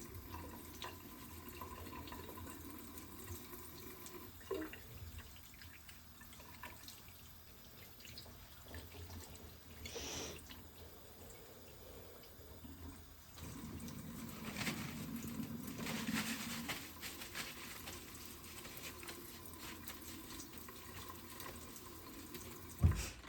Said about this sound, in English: I'm going to go ahead and wash my hands now. Wash my hands for 20 seconds.